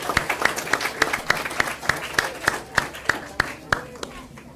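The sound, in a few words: audience applause at a school board meeting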